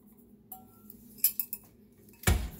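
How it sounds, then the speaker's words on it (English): A utensil clinks lightly against a mixing bowl while cake batter made with cake flour for a Hennessy pineapple upside-down cake is stirred. A few scattered taps are followed by one louder knock near the end, in a quiet kitchen. "Continue to mix."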